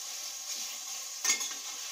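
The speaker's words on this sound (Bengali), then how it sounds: "এবার এটা একটু এনে নেড়ে ছেড়ে নেব।" Butter chicken masala being stirred in a pan, a steady low sizzle with a single brief scrape of the spoon partway through, close and fairly quiet with no talking.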